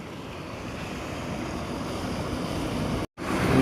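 A river swollen by heavy rain rushes past in a broad, steady roar, loud and close, with a brief dropout near the end.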